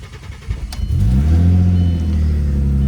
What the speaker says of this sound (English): Let's fire it up because we gotta let this one warm up a little bit